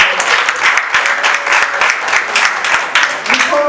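An audience at a Sierra Leone movie red-carpet event applauds Henrietta, dense continuous clapping at full strength from start to finish, with faint voices mixed in.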